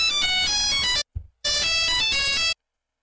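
A telephone ringtone plays as an incoming call, two bursts of a bright tonal melody separated by a short gap with a brief low thump, then silence.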